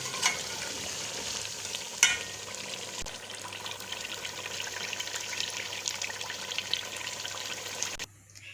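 Biryani masala is stirred into chicken in a pot, with soft steady scraping and a gentle sizzle close up, a sharp clink near the start, then sudden quiet at the end.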